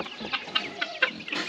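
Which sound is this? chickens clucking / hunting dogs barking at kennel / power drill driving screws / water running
chickens clucking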